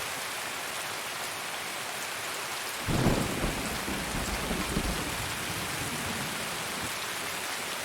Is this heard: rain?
yes